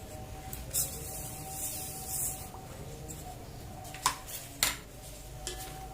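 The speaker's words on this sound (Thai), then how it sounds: "แล้วเราก็จะกวนต่ออีก 10 นาทีนะครับ" A utensil scrapes and clinks against a pot as Thai milk rice pudding (khao piak nom sod) is stirred, a steady faint rub with a few sharper knocks toward the end.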